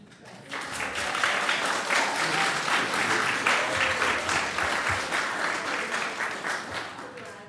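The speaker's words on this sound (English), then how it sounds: "I'll ask the public here to please refrain from major applause" An audience at a planning and zoning commission meeting applauds, a dense wash of many hands that swells quickly, holds steady for several seconds and tapers slightly toward the end, heard at moderate distance in the hall.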